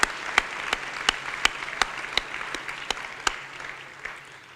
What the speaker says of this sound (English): let's give one more big round of applause to all of our recipients